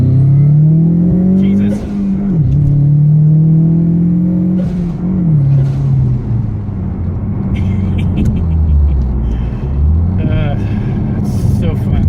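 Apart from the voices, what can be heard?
2016 Mustang Ecoboost big turbo pull, engine revving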